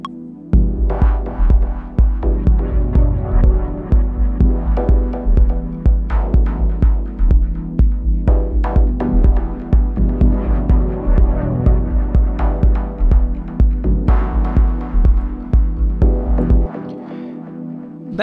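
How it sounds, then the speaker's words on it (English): A Diva software synthesizer plays a dub techno pattern built from cascading LFOs: a loud, steady throbbing pulse with deep low-end thumps and shimmering upper textures. It repeats rhythmically for about sixteen seconds before cutting off, with no talk. "That sound is one of a few sounds where I made some patterns by cascading the LFOs"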